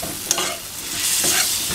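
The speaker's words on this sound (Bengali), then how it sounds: "কষিয়ে নিচ্ছি দেখো তেলে," Onion paste and chilli paste stir-fried together in oil in a pan, a steady close sizzle with spatula scrapes and a sharp clink near the start, no talking.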